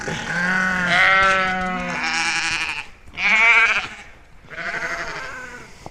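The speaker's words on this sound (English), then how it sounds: "if you haven't had sheep before, or you hadn't noticed, they can be quite loud" A flock of sheep bleats loudly and close while lining up at a gate before a catch pen, four long wavering calls overlapping in quick succession.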